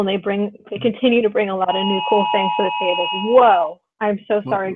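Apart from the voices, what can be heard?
phone emergency alert for a flash flood warning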